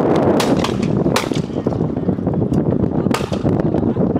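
Several loud, close shotgun blasts from a Benelli SBE3 28-gauge firing at clay targets at an outdoor Ducks Unlimited Expo, each sharp crack followed by a brief decay over steady wind noise.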